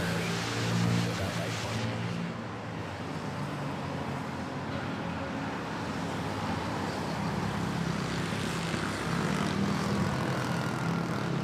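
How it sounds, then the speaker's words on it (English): An Airbus A320 airliner from Zamboanga lands at Manila Airport, its jet engines a steady, broad roar held close and loud throughout with a faint dip early on, no voices over it. "Short landing, A320. From Zamboanga."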